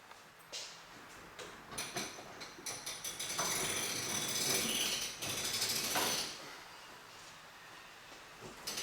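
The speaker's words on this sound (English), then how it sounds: "I'll crank it up. I'll show you what the issue is." The crank-up lift mechanism of a 1993 Coleman tent trailer with a cable problem being wound, quiet repeated ratcheting clicks building into a grinding, straining mechanical rumble, close by, with no talking.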